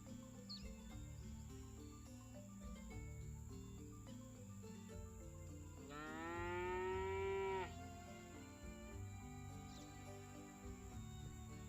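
One long, loud cow moo from the video game Scott Whiskers swells up over steady background game music and insect-like chirping, lasting about two seconds.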